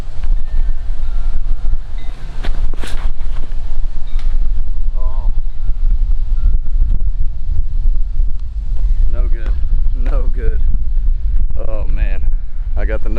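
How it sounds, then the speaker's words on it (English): Strong headwind buffeting a microphone on an outdoor disc golf course, a constant heavy low rumble throughout, with people talking intermittently over it. "We got a lot of headwind here"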